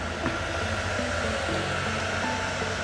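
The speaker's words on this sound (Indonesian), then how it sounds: "Jarak antara hair dryer ke sisir ke rambut jangan terlalu dekat." A hair dryer blows continuously while hair is styled with a comb at a salon, a steady airy whir with a faint motor hum and no talking.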